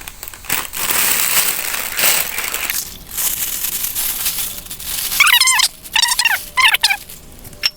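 Dry leaves being crushed and crumpled by hand while making eggshell fertilizer, loud close crackling and crinkling bursts in uneven handfuls, with brief squeaky scraping near the end.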